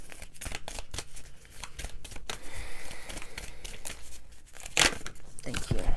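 Tarot cards are shuffled and drawn for a singles love reading, a quiet run of papery riffles, slides and flicks with a sharp snap near the end.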